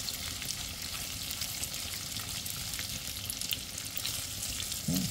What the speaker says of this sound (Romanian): și cabănuși ăștia prăjiți așa în untură